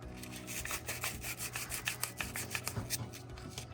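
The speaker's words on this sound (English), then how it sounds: "We are now going to use 120 grit sandpaper to clean all the old corrosion off of this terminal" Sandpaper of 120 grit rubbing corrosion off a golf cart battery terminal, a close, steady rasping scrub in quick repeated strokes throughout, with no talking.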